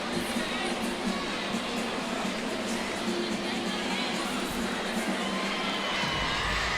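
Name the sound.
crowd cheering at LSU gymnastics vault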